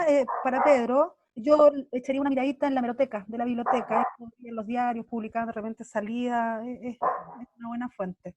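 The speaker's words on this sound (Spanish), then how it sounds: "perdón si se escucha mi perrito de fondo" A small dog barks and yips in the background of a home video call, its sounds repeatedly mixed under steady speech from someone talking throughout.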